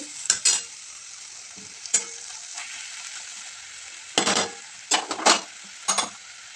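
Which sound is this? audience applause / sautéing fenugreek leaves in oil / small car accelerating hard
sautéing fenugreek leaves in oil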